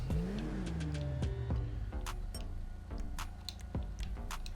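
An Albany Cavalcade XL SUV fitted with double chrome exhaust in GTA Online: a sharp rev sweeps up and falls, followed by several quick throttle blips and pops, fairly close and alone.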